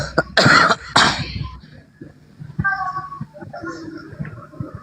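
Two harsh, loud coughs in quick succession, followed by quieter murmuring voices and room noise.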